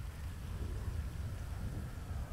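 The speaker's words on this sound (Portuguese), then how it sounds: "Caraca, tá chovendo muito, velho." Heavy rain with rumbling thunder during a downpour in the video game GTA 5, a steady dense wash of falling water under low, continuous rolling rumble, fairly quiet and without voices.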